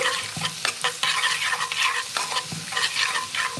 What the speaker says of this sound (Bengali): রসুনটা একটু ব্রাউন কালার করে ভেজে নেব